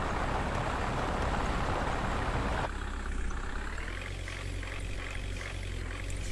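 An 18-tyre toy monster truck drives along in dim light, a busy rushing motor noise that abruptly drops to a thinner, steady electric whine with a faint pulsing, all close and with no talk.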